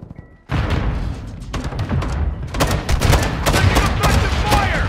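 A Semtex grenade detonates with a sudden heavy boom in the video game DMZ, followed by dense bursts of rapid gunfire and thuds that continue loud and close throughout.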